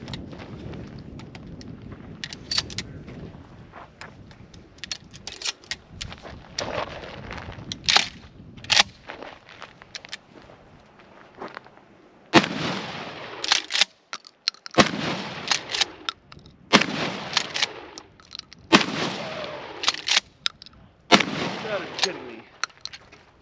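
A Remington 870 12 gauge tactical shotgun fires rifled slugs at bowling pins outdoors, a series of sharp, loud reports spaced a couple of seconds apart, louder and more regular in the second half, with wind noise and some talk between shots.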